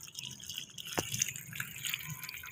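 Water drips from watering potted plants, including roses, on a rooftop, with one sharp drop standing out among soft trickling and splashing, close and quiet.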